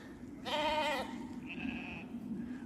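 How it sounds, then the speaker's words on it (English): A sheep on a Tennessee farm bleats once, clear and fairly close, followed by a fainter second call over quiet outdoor background hum. "All the sheep say happy spring."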